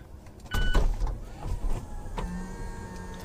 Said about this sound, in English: for the test drive we're going to put the roof down